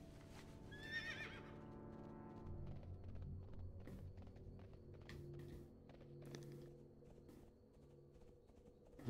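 Horse mount in the World of Warcraft video game gives a whinnying neigh at the start, followed by clip-clop hoofsteps and light game sounds over a low steady background.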